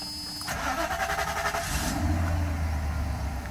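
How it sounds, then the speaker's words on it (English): A Mercedes SL500's engine cranks and catches, the starter whirring briefly before the motor fires and revs up, then settles into a steady idle, heard up close. "So now we're going to start the car"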